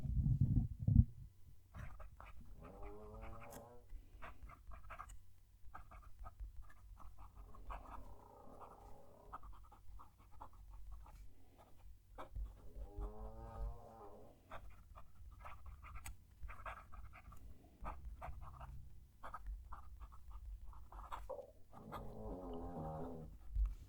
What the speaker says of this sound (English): The additional backing track you heard there is the dog over on her bed, having a nap and snoring away.